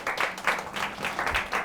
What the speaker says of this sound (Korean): 그래서 박수 한번 쳐주세요.